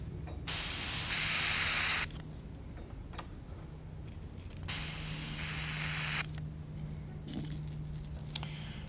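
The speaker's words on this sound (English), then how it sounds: "I want to add a little pearl lime green from Wicked Colors into the airbrush" An airbrush sprays pearl lime green paint from Wicked Colors onto a perch-pattern fishing lure, giving two loud, steady hissing bursts of about one and a half seconds each, separated by quieter handling sounds.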